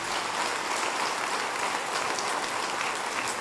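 Audience applause at a New Year's wishes ceremony in Mandelieu-La Napoule, a dense, steady wash of clapping sustained evenly throughout without voices.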